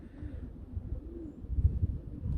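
A two-year-old red Bokhara trumpeter pigeon cock coos in low, soft rolling phrases close by, a steady murmuring drone with slightly louder pulses toward the end.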